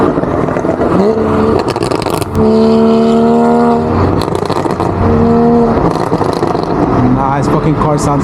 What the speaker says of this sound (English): his car sounds insane